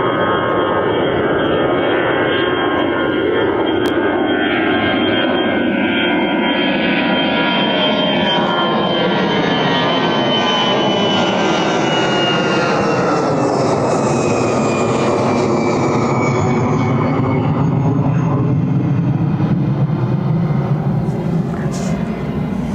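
An arriving airliner at Birmingham Airport gives a loud sustained jet roar that slowly shifts in pitch as it passes, with a broad whine and rumble throughout.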